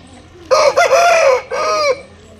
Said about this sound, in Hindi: देखिए मुर्गा